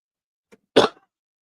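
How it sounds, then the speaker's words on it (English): A single sharp cough bursts out close by, brief and loud, preceded by a faint tiny click, then silence. "did not mute it in time of my cough."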